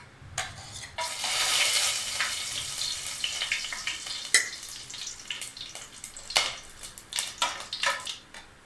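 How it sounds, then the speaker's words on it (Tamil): Whole cinnamon, fennel seeds and cloves tempering in hot oil in a pan for a South Indian lentil-dumpling kuzhambu, crackling and sizzling loudly, with a burst when the spices go in and scattered pops and clinks after. "இப்போ நம்ம குழம்புக்கு தாளிச்சிடலாம். பட்டை, சோம்பு, கிராம்பு"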